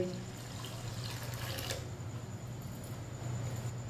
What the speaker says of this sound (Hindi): आधा गिलास पानी और डालेंगे।